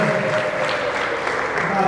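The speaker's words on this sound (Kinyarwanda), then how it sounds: "bose twongera amashyi" Wedding reception guests in Rwanda keep up steady applause, with someone talking over the clapping throughout.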